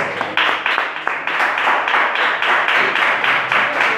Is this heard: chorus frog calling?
no